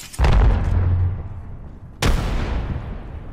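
Two frag grenade blasts in the Apex Legends video game: a loud, deep boom with a long rumbling tail, then a second sharp explosion about two seconds later that also fades out slowly.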